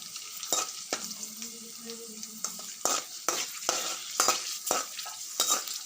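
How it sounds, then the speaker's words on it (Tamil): Cashews fry in hot oil, not ghee, for rava kesari, with a soft, steady sizzle broken by close, irregular scrapes and knocks of a spoon stirring the pan. "எண்ணெய் காஞ்சதும் அண்டிப்பருப்பும் முந்திரியும் போட்டு வறுத்தெடுக்கணும்."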